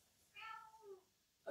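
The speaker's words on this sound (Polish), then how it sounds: "Miau." A cat gives a single soft, drawn-out meow, faint and close, at a wool fashion fair in Warsaw, followed by a brief sharp sound at the end.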